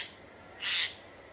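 A Eurasian jay gives a single harsh, rasping screech lasting about a third of a second, clear and fairly close against a quiet outdoor background.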